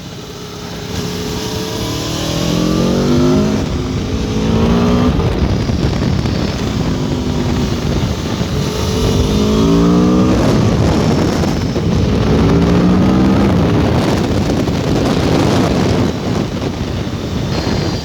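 Aprilia Tuono V4 Factory motorcycle engine revving hard on the road, loud rising and falling gear-change sweeps under heavy wind roar across the full ride.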